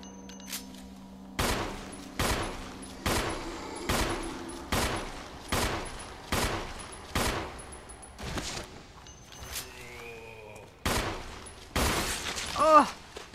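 Gunshots in Resident Evil Remake HD, played as Chris: about nine sharp, evenly spaced single shots with short ringing tails, loud and close, separated by quiet pauses and with no talking.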